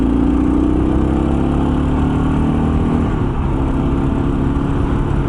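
A Kawasaki KLR 650 motorcycle engine runs loud and close as the throttle opens, a steady mid-pitched drone with a rising tone in the first seconds that shifts and settles partway through.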